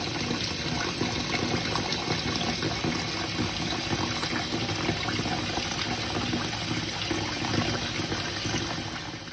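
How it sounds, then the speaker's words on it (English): Tap water pours steadily into a pot holding ham hocks while cooking greens, a continuous gushing fill that stays fairly loud and even throughout, with no talking. "when it comes to filling up the ham hocks with water"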